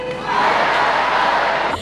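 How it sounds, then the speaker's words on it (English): A crowd led by the Queensland Premier bellows a loud Aussie chant at a 2018 celebration of sports stars; one close, sustained massed shout that cuts off abruptly. "The Queensland Premier Anastasia Palaszczuk kicked off the proceedings with a loud Aussie cheer."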